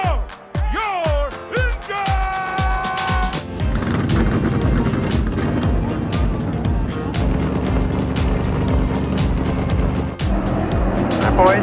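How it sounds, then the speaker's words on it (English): NASCAR race car engines roar at Auto Club Speedway, loud revving and whining cars sweeping past in quick succession before the pack settles into a dense, sustained snarl of many engines. "The green flag is in the air, and Austin Cindric takes off."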